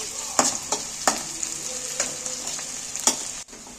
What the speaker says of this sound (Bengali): পেঁয়াজটাকে আমি একটু লাল লাল করে ভেজে নেব